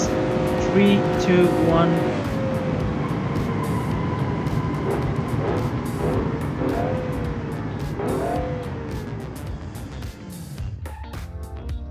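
A powerful pickup truck at top speed in BeamNG.drive, its engine a loud steady drone with rising and falling whine as it races, a voice counting down over it, then the roar cutting off near the end.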